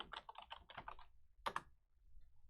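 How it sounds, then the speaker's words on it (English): Quiet, close keystrokes on a computer keyboard: a quick run of soft clicks for about a second, a short pause, then two sharper taps, in an otherwise near-silent room. "You type PyCharm, like just PyCharm,"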